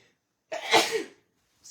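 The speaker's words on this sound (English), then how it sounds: "I'm going to sneeze." A single sharp sneeze bursts out close and loud, a brief explosive burst fading within under a second, with silence before and a faint hiss after, during a papercraft scrapbooking session with a Carta Bella Honeybee paper collection.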